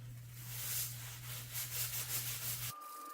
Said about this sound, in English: I'm going to start scrubbing it